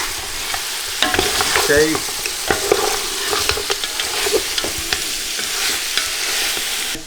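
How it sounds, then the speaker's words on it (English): Botia meat chunks frying in a pan for kabuli pulau, a busy close sizzle broken by frequent clattering scrapes and knocks of stirring, with one short spoken word. "we're gonna mix everything up nicely, and we're gonna fry this botia"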